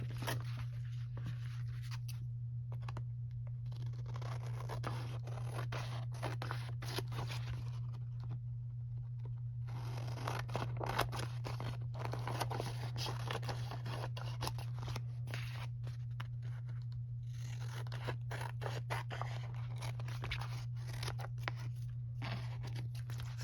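Paper being trimmed with scissors for a handmade envelope journal, a run of short snipping and crinkling cuts at close range, with no talking, over a steady low hum.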